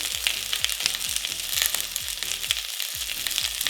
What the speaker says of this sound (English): We're gonna let that saute until the onions become translucent.